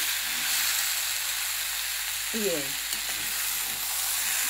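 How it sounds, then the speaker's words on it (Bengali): Spice paste of turmeric, chilli, cumin and ginger sautéing in a pan gives a soft, continuous sizzle and hiss, fairly quiet, with a brief stirring scrape midway. "এবার এটা আমি কষতেই থাকবো, হাতে করে একটু করে জলের ছিটে দেবো আর কষবো"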